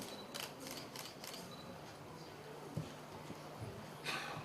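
Camera shutters click in quick bursts at a live cooking demonstration, several rapid faint clicks early on and another cluster near the end, set against a low murmur of room noise.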